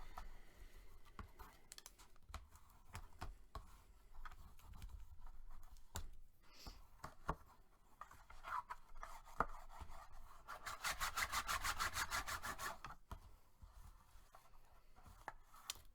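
Bone folder pressed and rubbed along paper while crafting a New Year's Eve card, a close, quiet scraping with scattered taps and a denser rasping stretch near the end, no talking.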